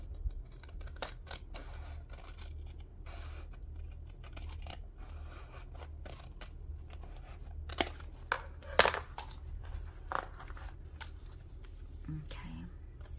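Scissors snip through paper in a collage-making session, a soft steady crinkling bed broken by scattered sharp cuts, with a cluster of louder snips in the middle; a voice speaks faintly underneath.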